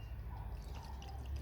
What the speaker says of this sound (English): I shall pour a little bit